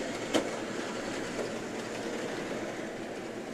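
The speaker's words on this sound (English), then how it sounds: "looks like we got the train going" An RRinaBOX QuickieLine kit model train runs along its small layout track with a steady, soft rolling clatter and a light click near the start, close by and without speech.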